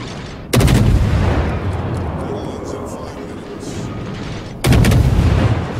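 Two heavy naval gun volleys from World of Warships boom out loudly a few seconds apart. A rumbling, noisy tail fills the gap between them, and a voice talks over the action.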